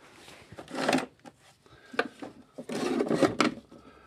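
Drawers of a tool cabinet holding Southbend 9C lathe parts slide open and metal pieces clatter and rub as they are rummaged through, in short irregular bursts close to the microphone.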